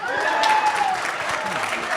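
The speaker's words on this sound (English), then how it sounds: "Clap, come on." A wedding crowd claps steadily and fairly close, a dense wash of applause with some cheering voices mixed in.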